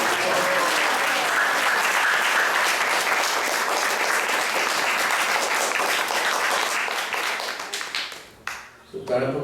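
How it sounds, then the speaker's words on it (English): A congregation at a temple Sunday class applauds a visiting speaker, sustained loud clapping with some voices underneath, thinning out and fading near the end. "Let's give a round of applause for Tara Prabhu"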